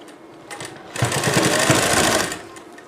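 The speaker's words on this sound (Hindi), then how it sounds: "इस पर सीधी सिलाई लगानी है" Sewing machine stitching a straight seam on a blouse side, a short quiet lead-in and then a loud, close, fast rhythmic whir for about a second and a half before it stops.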